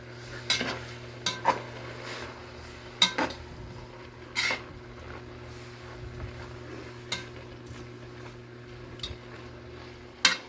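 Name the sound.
stirring food in a cooking pot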